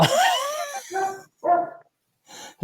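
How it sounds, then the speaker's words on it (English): A dog barks and yips several times in quick, separated bursts, fairly close and loud, with short silences between them. "barking in the background"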